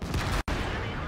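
Tank gun firing in World of Tanks during a competitive match, a single loud, sharp shot with a brief dropout in the middle, heavy broadband blast.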